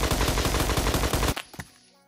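Rapid automatic gunfire in the Phantom Forces video game rattles out loud and close in a fast, even burst, then cuts off and a few scattered shots and clicks trail away.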